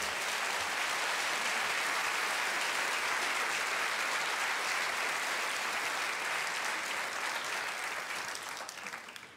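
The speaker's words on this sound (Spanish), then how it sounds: "Dele palmas al Señor." A church congregation applauds in a loud, dense wash of clapping that holds steady and then thins and fades near the end.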